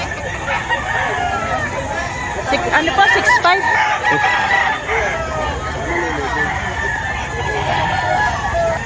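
Roosters crow repeatedly at a chicken market in Lipa, Batangas, their calls rising over a busy crowd, with people haggling nearby.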